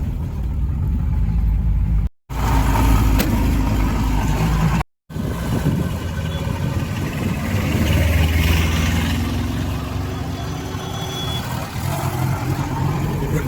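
A vehicle drives along a village road in the Ketti area, a steady engine rumble and road noise running close and loud throughout, with two brief dropouts.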